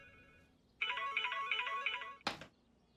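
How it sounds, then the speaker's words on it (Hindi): A mobile phone ringtone chimes for about a second and a half in a tonal, repeating pattern, clear and fairly loud, then cuts off with a short sharp burst of noise; no one speaks. "फोन"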